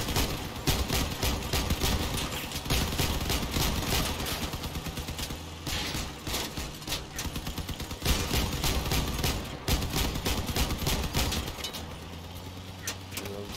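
Dense, loud bursts of heavy automatic cannon fire in the vehicle combat game Crossout, rapid repeated blasts nearly continuous throughout, with occasional brief lulls.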